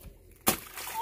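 A child jumps into a muddy puddle, making one sudden, loud wet splash partway through, followed by a brief slosh of mud and water settling.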